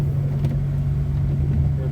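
A car heater fan blows a steady, broad rushing hiss with a low hum inside a vehicle during a snowstorm drive, constant and close throughout.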